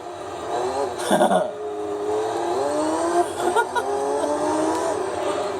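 Lotus Esprit V8 SE engine in the Gran Turismo 3 video game, revving and shifting through gears with rising, whining pitch sweeps and brief tire squeal, steady and prominent throughout.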